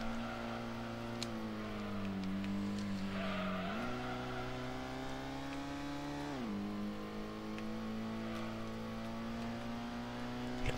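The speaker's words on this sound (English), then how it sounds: "I do like to accelerate around the old bends." Race car engine in Gran Turismo holding a steady high drone with pitch dips and climbs as it accelerates out of bends, loud and close throughout with faint squeal of tyres.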